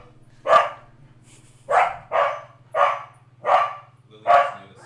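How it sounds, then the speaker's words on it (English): A corgi indoors gives six sharp, close barks at uneven intervals over a steady low electrical hum, with no talking. "You have another corgi."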